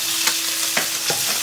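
Lean pork stir-fries in hot oil in a wok with garlic and century egg, a loud, steady sizzle punctuated by a few sharp scrapes of the spatula stirring the meat.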